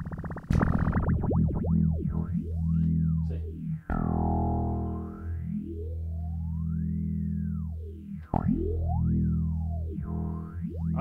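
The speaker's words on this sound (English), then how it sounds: "once you mix it up with the rate knob, you can do things like this." A steady tone runs through a phaser effect pedal while its rate knob is adjusted, giving sweeping, swooping, warbling pitch glides that rise and fall continuously, heard up close with no talking.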